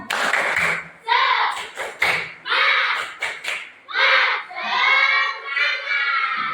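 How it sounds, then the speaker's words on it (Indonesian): A class of schoolchildren claps out a rhythmic spirit clap in several quick bursts of patterned claps, then ends with shouting and cheering voices, loud and close in a room. "Tepuk semangat."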